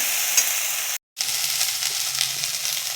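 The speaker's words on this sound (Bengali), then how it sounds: "খুব ভালো করে আদা রসুনটাকে কষাবো।" Ginger garlic paste sizzles in hot oil in a pan for an egg curry, a close, steady frying hiss with soft stirring scrapes. A very brief gap breaks the sound before the sizzle continues.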